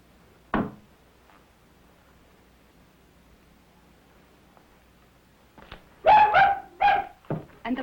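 A small dog barks sharply once, then after a quiet stretch gives a cluster of louder barks and whimpers near the end, close and alone without talk.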